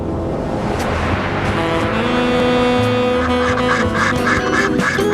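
White geese on a farm honk in a noisy chorus, repeated overlapping calls near and far against a steady outdoor rumble.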